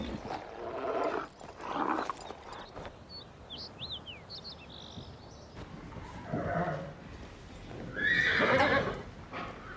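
A horse neighs in a few loud, shrill whinnies near the end, with faint hoof clip-clop and light bird chirps in the background at a riding stable.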